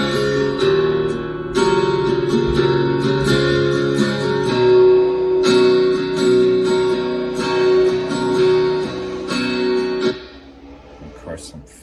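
Double-tracked acoustic guitars strummed together with an amped acoustic in a song mix, dense and bright with rhythmic chord hits, loud and full until the sound drops off near the end.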